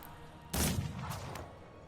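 Gunfire in the Mordheim video game, one loud, sharp burst followed by a fading rumble and a couple of softer follow-up cracks.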